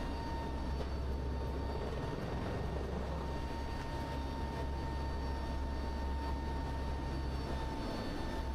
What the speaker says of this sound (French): Il faut un avion militaire, un avion cargo.